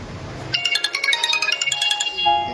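A phone ringtone plays while calling a lucky draw winner: a bright, repeating electronic melody of quick pulsed tones, loud and close, running for about a second and a half after a short lead-in.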